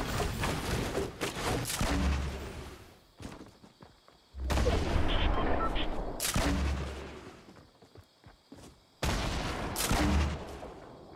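Gunfire in the Fortnite video game comes in three loud, dense bursts of rapid shots and booms, with brief quieter gaps between them.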